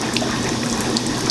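Steady rushing of water pouring continuously into a laundromat washing machine that won't stop filling, a dense hiss with a low hum underneath, close by and with no voices.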